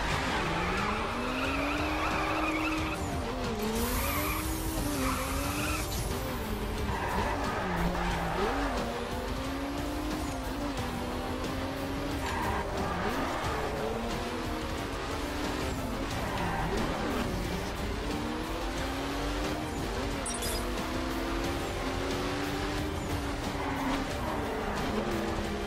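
A car races with repeated tire squeal and skidding in The Crew driving game, a steady loud engine drone with wavering pitch running throughout, alone without talk.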